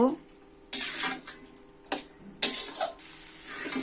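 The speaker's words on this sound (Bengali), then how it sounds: "কাঁঠালগুলো ভালোভাবে ভেজে নিব" Jackfruit pieces frying in oil in a wok for a vegetarian jackfruit curry, with several sharp bursts of spatula scraping and stirring against the metal between quieter stretches of low sizzle.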